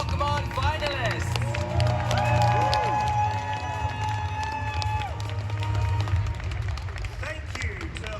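Crowd at the 2023 Pokemon Europe International Championship applauding and cheering the finalists, with a broad wash of clapping and shouts under loud amplified talk from the stage.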